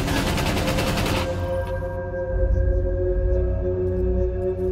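Submachine gun fire in Rainbow Six Siege during a Yacht team deathmatch, a dense rapid burst of shots filling the first second, then steady game hum and distant thuds with no talk.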